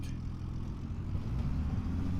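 A tractor engine in the video game Farming Simulator 25 runs at a steady low rumble throughout, with a slight rise in revs toward the end and no talking.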